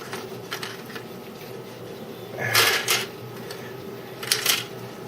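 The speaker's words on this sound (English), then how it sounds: "close the drawers" Drawers on a plastic storage set slide shut, two brief clattering bursts a couple of seconds apart over a steady low background hum.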